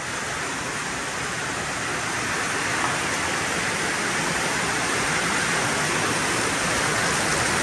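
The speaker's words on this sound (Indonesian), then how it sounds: "Hujan." Steady loud rain falling around a truck being refitted with leather interior, a dense continuous hiss without pauses or voices.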